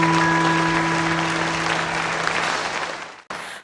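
Classmates and teachers applaud at a school, a steady wash of clapping with a low electrical hum running underneath that cuts off abruptly near the end.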